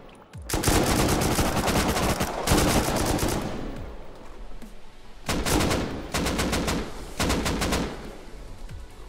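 AK rifle gunfire in the Rust video game, heard as loud repeated bursts of automatic fire in several clusters, some long sprays and some short rapid volleys, with quiet gaps between and no talking.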